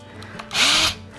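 Power drill boring through a piece of wood held in hand, a short loud whining burst as the bit bites in and pokes through, rising briefly above a quieter background before cutting off.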